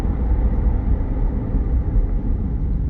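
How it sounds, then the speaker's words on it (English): A 2021 Chevrolet Corvette Stingray 3LT braking hard on a test drive gives a steady low road and engine rumble inside the cabin, even and unbroken throughout. "Gonna hit the brakes a little hard here."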